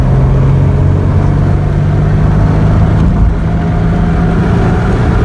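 A car engine held at about 3,200 RPM after a motor flush drones loudly and steadily close by, a continuous low hum with no speech over it.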